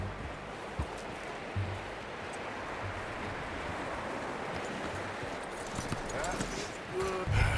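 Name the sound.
horse hooves from video game Red Dead Redemption 2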